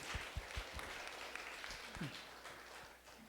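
A small seminar audience at an evangelism training session gives sparse, scattered clapping, faint and somewhat distant, tapering off near the end.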